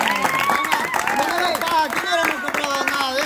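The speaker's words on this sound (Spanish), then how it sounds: "Se merece un aplauso" Small group clapping and cheering at a home gathering, scattered hand claps mixed with excited overlapping voices and talk throughout.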